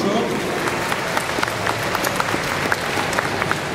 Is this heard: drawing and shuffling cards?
no